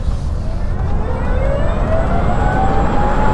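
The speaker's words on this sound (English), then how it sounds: "What you do notice straight away is it is distinctly noisy. You hear the motor whine," Renault Twizy electric vehicle driving, its motor giving a loud rising whine that climbs steadily in pitch over low road rumble as the car accelerates.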